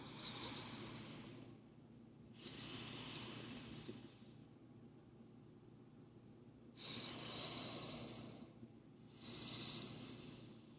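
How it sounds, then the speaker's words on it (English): Slow, deep breathing during a hatha vinyasa yoga flow, with four quiet, airy breaths spaced evenly and close to the microphone, with near silence between them. "Slow down your breath."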